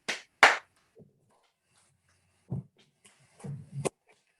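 Two sharp hand claps at the start, then a third, later mixed with soft, brief vocal sounds and a couple more claps near the end, as part of a folk dance step.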